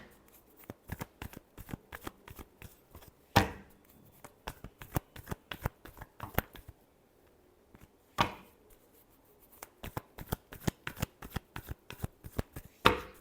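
Tarot cards being shuffled by hand, close and crisp, with rapid riffling flutters in short bursts and a few louder slaps as the deck is squared, no talking.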